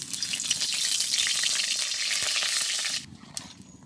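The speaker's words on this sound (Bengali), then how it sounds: "তো তেল গরম হয়ে গেছে, আমি এখন দিয়ে দিই বরবটি আর বেগুনটা" Yardlong beans and eggplant hit hot oil in a kadai during village cooking, giving a loud, steady, close sizzle that cuts off abruptly near the end, leaving quieter crackling.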